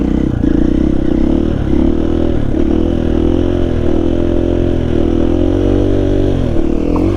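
An XR80 dirt bike with a KTM power bundle engine holds a steady, loud, buzzing drone throughout, the revs rising and falling slightly as the rider balances it through slow controlled wheelies.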